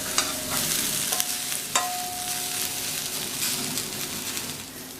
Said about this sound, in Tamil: நல்லா ஒரு தடவை மிக்ஸ் பண்ணி விட்டுட்டு ஸ்டவ் ஆஃப் பண்ணிடலாம்